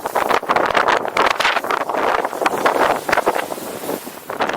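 Strong wind buffets the microphone on the shingle beach at Dungeness, a loud, continuous gusty roar with rising and falling surges and no voices.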